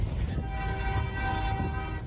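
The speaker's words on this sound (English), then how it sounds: "We got a CSX right on this side." A CSX freight train passes at close range beside Lake Avenue in Blasdell, New York, with a steady loud rumble of rolling cars, sustained horn-like tones and a windy background throughout.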